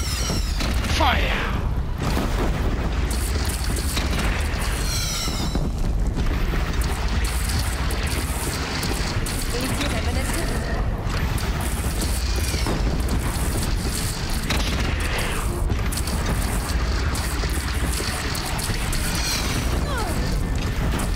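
Dense, continuous battle noise in Horizon Zero Dawn with repeated booming cannon blasts, crashes and mechanical clatter, loud throughout, with shouted German voices mixed in.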